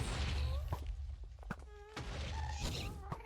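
A fireball struck back in the Nether in Minecraft: a hard thunk lands over a dense, rumbling game soundscape, with brief tonal whines and further thuds around it.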